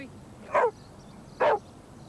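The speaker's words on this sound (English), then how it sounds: "The way that we do it is to teach the dog to bark, first of all, for a toy." A dog barks on command for a toy, giving two short, sharp barks about a second apart, clear and close against a quiet room background.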